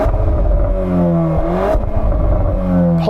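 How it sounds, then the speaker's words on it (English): Volkswagen Golf R engine revved while stationary, loud and close, rising in pitch to a peak, dropping, then climbing again for a second rev that cuts off abruptly at the end. "Go on, give it some revs."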